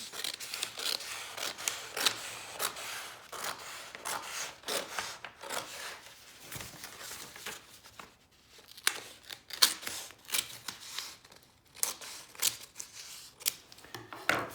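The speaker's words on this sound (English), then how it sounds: "So I'm going to cut this nicely." Scissors or a blade trim marbled paper for a law book's cover, making a close series of dry cutting and rubbing strokes with short pauses between them and no speech.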